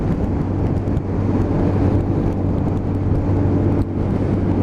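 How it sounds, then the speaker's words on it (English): Strong headwind buffets the microphone on a Lexmoto Assault motorbike ride, a loud, continuous low roar mixed with engine drone and steady rushing air. "I've got a huge headwind blowing into me"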